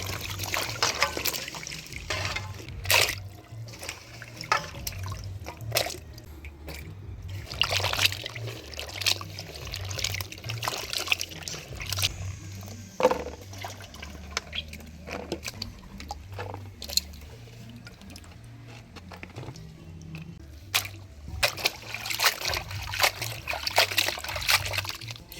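Gourd leaves, vine shoots and vegetables are washed by hand in water in a village kitchen. Soft trickling, splashing and sloshing continue in irregular bursts, fairly quiet and close, with no talking.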